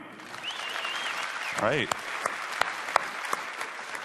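Audience applause at a Windows 8.1 presentation: a short burst of scattered clapping from a crowd, with a voice speaking briefly in the middle.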